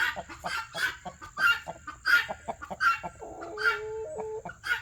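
Cochin chickens cluck close by in a rhythmic series of short, evenly spaced clucks, with a few softer calls in between and a faint steady hum in the background.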